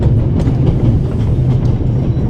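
Train from the video game The Raven rolling steadily along the rails, a continuous low rumble with faint rhythmic clatter throughout, loud and close with no talking.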